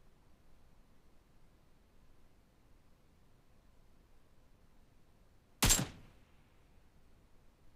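A single sharp 7.62 rifle shot in PUBG Mobile cracks out after several seconds of near silence, loud and abrupt with a short decaying tail.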